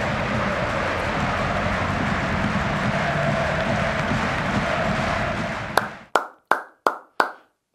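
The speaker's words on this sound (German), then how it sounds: "Applaus für die geilsten Fans der Welt." Werder Bremen football fans make a broad, roaring wash of sound for several seconds. It cuts off and is followed by five sharp, evenly spaced claps, each one ringing out with a short echoing tail.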